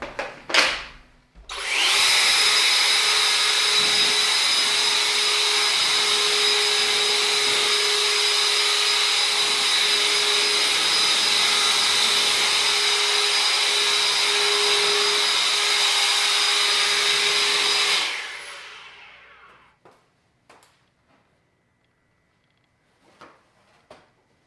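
A blast of compressed air blows dust off a car cover in a home garage, a steady loud hiss running about sixteen seconds before cutting off, followed by a few faint clicks.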